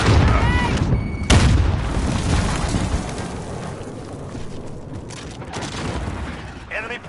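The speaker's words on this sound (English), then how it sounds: "Throwing grenade!" A grenade blows up in a console shooter game, one sudden heavy boom followed by a rolling rumble and scattered gunfire, with game voice callouts over the mix.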